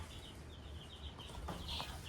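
Soft hen clucks and calls over a steady low hum, a few brief bursts rising near the end.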